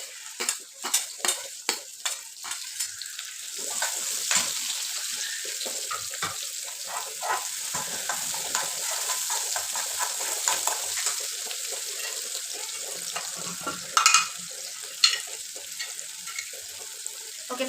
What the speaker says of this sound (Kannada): ಇದು ಒಂದು 10 ಸೆಕೆಂಡ್ಸ್ ಅಥವಾ 15 ಸೆಕೆಂಡ್ಸ್ ಚೆನ್ನಾಗಿ ಫ್ರೈ ಆಗಬೇಕು ಆನಿಯನ್ನು